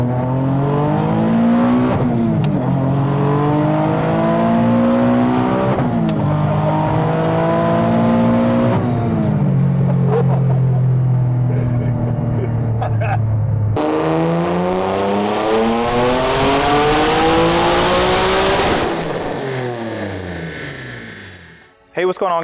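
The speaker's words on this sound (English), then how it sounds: "today we're going to talk about Matt's 2017 Nissan 370z with our Soho Stage 1 single turbo kit, E85, and over 600 wheel" A 2017 Nissan 370z with a Stage 1 single turbo kit, running E85 and over 600 wheel horsepower, revs and accelerates hard through several rising pulls broken by gear shifts, loud and close throughout.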